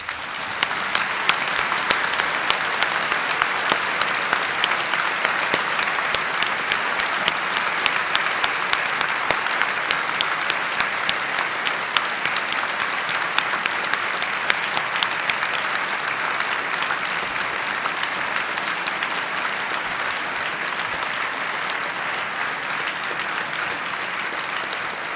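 Graduation ceremony audience applauding their graduates at a Belfast degree ceremony, a steady, sustained wash of dense clapping from a large hall crowd lasting throughout without pause.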